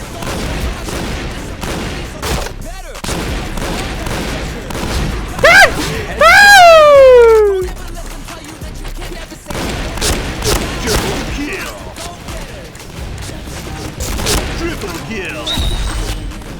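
Gunfire in the shooter game Point Blank, a zombie mode match, with bursts of shots, booms and a swooping effect sound, mixed with a player talking loudly over the action.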